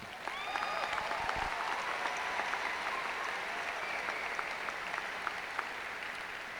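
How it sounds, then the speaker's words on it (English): Commencement audience applauding senior athletes at a high school graduation ceremony, a steady wash of clapping from a large crowd that holds at even volume, heard from a distance with faint voices scattered through it. "You can clap."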